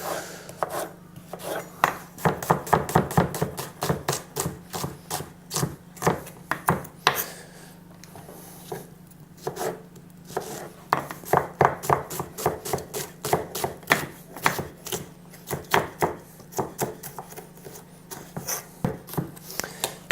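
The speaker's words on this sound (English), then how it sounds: "We'll see if I can cut these onions without crying." Onions sliced with a knife on a cutting board for a zucchini bake, a long run of close, crisp chopping strikes in quick irregular bursts with brief pauses, no talking.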